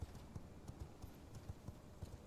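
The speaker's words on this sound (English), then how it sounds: "How do you get off this horse?" Horse hooves clip-clop at a steady walking rhythm in the V Rising video game, a quiet, evenly paced series of soft hoof thuds with no talking over them.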